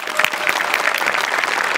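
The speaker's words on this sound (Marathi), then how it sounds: "जोरदार टाळ्या" Studio audience at a Marathi comedy show stage breaks into loud, dense applause, a steady wash of clapping hands throughout.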